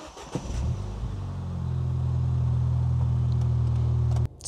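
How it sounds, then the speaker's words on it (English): Ford Fiesta ST180 engine turning over and catching, then a steady loud rising idle rev held for a few seconds before it suddenly cuts off. "Let's start that engine up."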